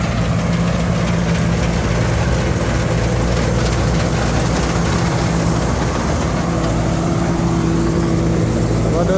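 A rice combine harvester with a 3-metre header, 2.5-ton grain tank and Hino engine works a paddy field, its engine droning loud and steady with a constant mechanical rumble and high whine throughout.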